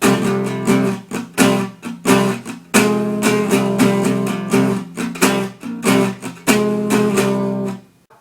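Acoustic guitar slowly plays an intro, with rhythmic strummed and picked chords in a measured, repeating pattern, close and clear, fading out at the end.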